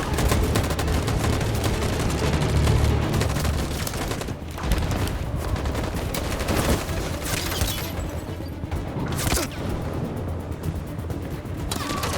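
A volley of gunfire in the video game Detroit: Become Human, with dense, sustained bursts of shots and booms at full loudness that roll on continuously without pause.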